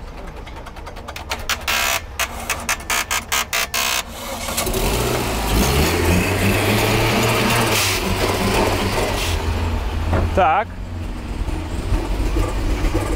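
A Daewoo Matiz fitted with a new turbo, reportedly around 200 horsepower, cranks with rapid rhythmic starter chatter for about four seconds. It then catches and runs loud and close with a rough, steady engine note, and a single word is spoken briefly.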